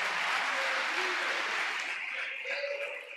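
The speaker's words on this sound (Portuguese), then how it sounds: "Pode aplaudir a Jesus" A church congregation claps during a sermon, a dense wash of applause that stays full for a couple of seconds and then gradually fades, with voices briefly audible through it.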